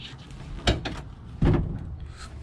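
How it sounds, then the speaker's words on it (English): Rear doors of a Mercedes Sprinter van being opened, two distinct clunks about a second apart over quiet background, close and moderately loud. "come to the rear of the van, and you want to open both of the doors"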